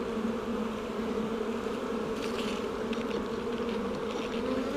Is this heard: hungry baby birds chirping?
no